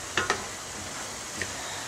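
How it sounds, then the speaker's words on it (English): A spoon stirs pasta sauce with turkey meat in a pot on the stove, giving a couple of close scraping clinks over a steady soft sizzle and bubbling. "So I'll stir this up a little bit."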